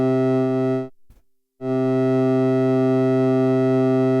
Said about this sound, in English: Let's listen to the min output.